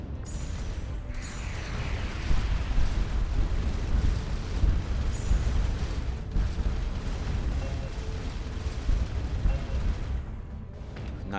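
Rumbling explosions of destroyed enemy ships in the space game Starcom Nexus, a dense, continuous roar of blasts and booms rolling on for several seconds with no clear gaps.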